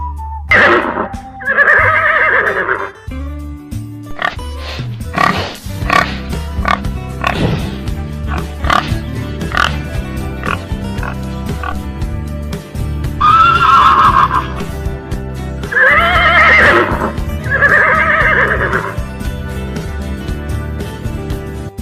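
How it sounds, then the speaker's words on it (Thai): Several loud horse neighs and whinnies, each a rising then falling shrill call, ring out clearly against a steady background of other farm animal noise and some clopping. "เดี๋ยวเราไปฟังเสียงของม้ากันนะคะ"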